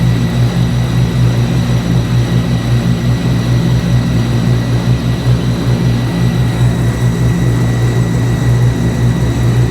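A loud, steady Hellcat-engined car's drone with a persistent high whine riding on top, continuous and unbroken throughout, close by.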